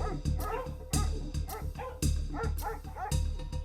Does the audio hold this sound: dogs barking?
yes